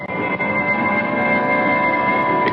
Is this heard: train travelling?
yes